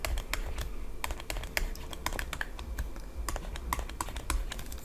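Calculator buttons pressed in quick bursts while adding a column of numbers during a GCSE maths exam walkthrough, giving close, light plastic clicks in an uneven rhythm with no talk.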